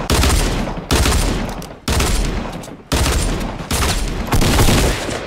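Loud bursts of automatic gunfire in Fortnite Battle Royale, several long sustained volleys broken by short gaps, close and dominant.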